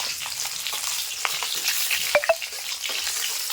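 Fish pieces frying in hot oil in a pan, continuous close sizzle with scattered pops and two sharp utensil clinks near the middle, no talking.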